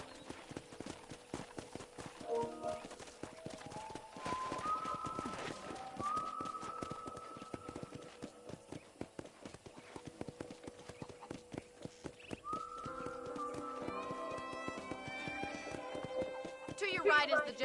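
Hooves of a horse in the Red Dead Redemption video game clip-clop in a steady trotting rhythm throughout, under game voices and a musical score.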